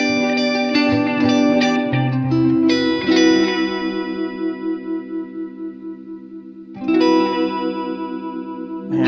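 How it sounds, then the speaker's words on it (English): Electric guitar played through an Electro Harmonix Vintage Deluxe Memory Man analog delay with the blend kept low: picked chords and notes ring out, trailed by soft repeating echoes with a gentle warble, loud and close with no talking. "what a great sounding delay"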